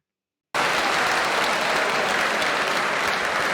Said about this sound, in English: I just hate that kind of aggressive like laughing and applauding